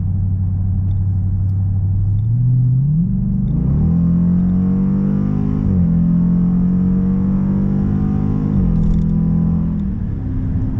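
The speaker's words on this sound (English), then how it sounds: "Exhaust is definitely present, but it's not overbearing where you have to yell to speak over the sound" A 2018+ Dodge Durango SRT 6.4L with an MRT cat-back exhaust at wide open throttle, its deep drone rising in pitch as the engine revs hard, a steady throaty rumble building and holding under acceleration.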